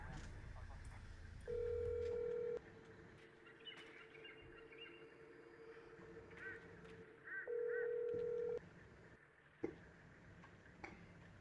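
An outgoing phone call rings out over a speakerphone: two long ringback tones several seconds apart, with quieter room noise and faint clicks between them.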